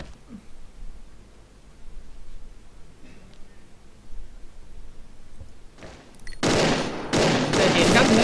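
Gunfire in the Xshot shooter game during the 2014 Asian Pacific Cup match: a quiet stretch of faint rustling and distant noise, then loud bursts of rapid shots in the last two seconds.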